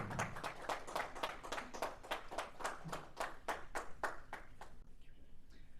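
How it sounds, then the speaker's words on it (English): Audience at a Toastmasters club open house meeting clapping for three speakers called to the stage; a small crowd's distinct, fairly close handclaps in a steady patter that thins out and stops near the end. "Please give a huge round of applause for this 3 passionate, a future leader and a public speaker."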